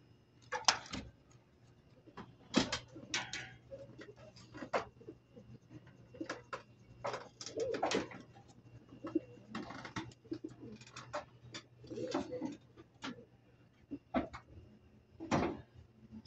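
Pigeons cooing softly at close range, repeated short throaty calls coming in irregular bursts over a faint steady background hum.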